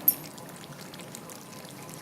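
Water is poured into a simmering desi chicken curry with coriander and poppy seed, a soft, steady splashing trickle lasting about two seconds at low level.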